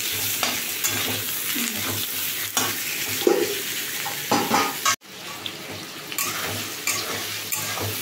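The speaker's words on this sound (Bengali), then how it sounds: "চিংড়ি মাছটা আলাদা করে আর ভাজলাম না, একেবারেই ভেজে নিচ্ছি আলুর সাথে সাথেই" Prawns frying together with potatoes in a home kitchen pan, a steady sizzle with spoon stirring and scraping throughout, a sharp clatter near the middle and a brief water or sink sound at the start, no one talking.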